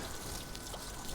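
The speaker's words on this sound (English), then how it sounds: "So a little bit of water coming out there" Water trickles faintly from a field drain outlet after its laterals were reconnected during a drought, a soft steady pouring wash heard at a distance with no talking.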